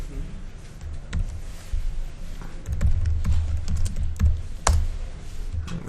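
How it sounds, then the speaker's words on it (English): Someone types a command on a computer keyboard, with irregular close key clicks and taps in quick bursts and a few sharper, louder keystrokes, no voices. "So we type load keys UK."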